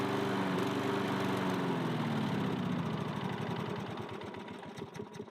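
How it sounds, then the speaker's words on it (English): A small engine runs steadily at close range, then begins to stumble into uneven, sputtering pulses as it runs out of fuel, with no talking. "Start and run the engine until it runs out of fuel."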